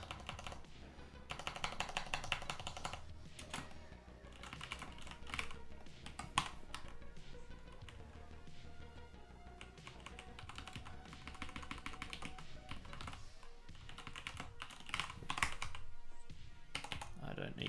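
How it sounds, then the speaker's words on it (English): Computer keyboard typing during a game modding session, steady clustered keystrokes running throughout under a continuous bed of other sound. "Keep on typing that way."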